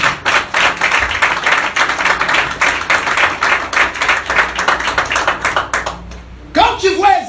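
Church congregation clapping and applauding for the Lord during a French-language sermon, a dense run of hand claps that fades at the end as a voice resumes.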